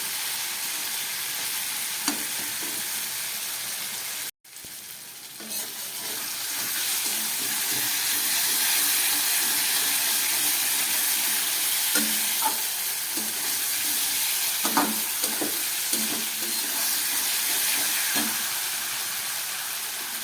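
Fish, spices and ridge gourd stir-fried in a pan for a Bengali bata fish and potato curry, giving a steady broadband sizzle with intermittent scraping stirs and clinks, close and continuous, with a brief dropout early on and no talking.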